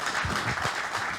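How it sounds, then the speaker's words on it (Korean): A live audience claps together at a Korean book-talk event, a dense, steady patter of hands lasting about a second, fairly close and even in loudness. "박수 부탁드립니다."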